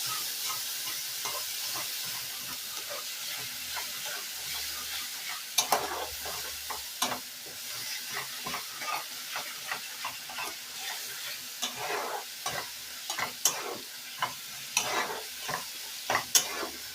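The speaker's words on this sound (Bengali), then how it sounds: "দিয়ে আবারও মশলাটাকে কষিয়ে নেব।" Spiced masala with about 50 g of sour yogurt sizzles and fries in a pan for a pomfret curry, a steady hiss broken by repeated scraping stir strokes, close and alone with no talk.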